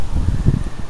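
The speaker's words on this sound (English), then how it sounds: "A bit windy here today, so I'm not sure if you can hear me" Low, rough rumbling buffets the microphone continuously, like gusty wind blowing across it, outdoors at a field site in Wales.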